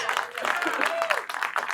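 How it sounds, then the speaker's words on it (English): Crowd applause for first assistant directors at a comedy writing talk, brief and fairly quiet, with speech running over the clapping. "A round of applause for first ADs, guys"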